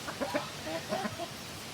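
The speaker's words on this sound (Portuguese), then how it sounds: "Esse aquele ali é um frango, não é uma galinha não." Chickens, including a young rooster, cluck in short soft bursts against steady farmyard background noise at moderate distance.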